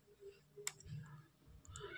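Computer keyboard keys being pressed while entering a command in the Windows command prompt, a few quiet close clicks and taps spaced irregularly over a faint background.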